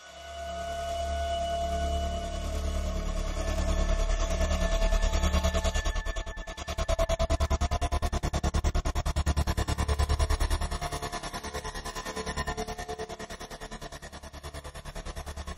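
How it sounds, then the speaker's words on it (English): A rhythmic gated organic texture from the 8Dio EverWave sample library chops into tight, on-grid pulses over a dense, sustained bed. It runs continuously for the whole stretch with no talking. "it's neat to gate organic textures like this"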